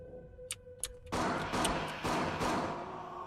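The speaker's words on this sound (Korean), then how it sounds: "총소리 총소리" Gunshots in TwinSoul, a horror video game from the makers of Silent Hill: two sharp, separate cracks, then a sustained loud burst of noise that lasts to the end.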